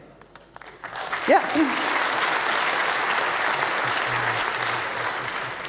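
Applause from a conference crowd of hackerspace members swells up after a short spoken word and holds steady, dense and moderately loud, to the end.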